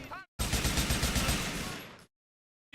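Rapid burst of automatic gunfire from the video game GTA 4, loud and sustained for under two seconds with a dense rattling texture, then cutting off abruptly into silence.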